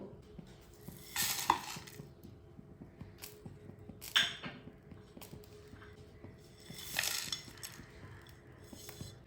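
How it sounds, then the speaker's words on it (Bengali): Whole biryani spices dry-roast in a pan over a medium flame, heard as a few separate bursts of scraping and rattling as they are stirred, with quiet gaps between strokes. "মিডিয়ামে রেখে আমরা মশলাগুলো সব একসাথে রোস্ট করে নেব"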